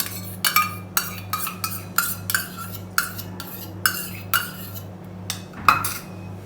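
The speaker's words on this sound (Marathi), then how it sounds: "त्याला असं छानपणे फेटून घ्या." Ghee and powdered sugar being whisked together in a bowl for cake batter: a rapid, uneven series of close metallic clinks and scrapes from the whisk against the bowl, with no talking.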